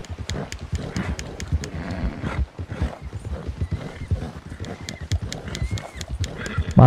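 Rapid rhythmic hoofbeats of a galloping horse in the video game Red Dead Redemption 2, steady and close, with sharp clicking accents above and no talk.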